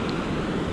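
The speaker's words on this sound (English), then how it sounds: "the waves are very large" Large ocean waves roll in on misty Phillip Island, a loud continuous surf roar mixed with wind rumble across the brief stretch.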